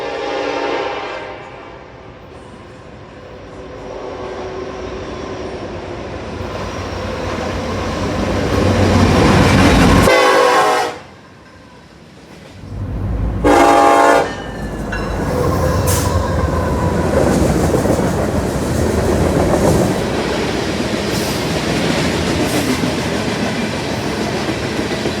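Union Pacific grain train rolling past with loud, steady wheel rumble and rail clatter, a horn blast sounding partway through before a brief drop in noise, then the heavy rumble resumes and continues.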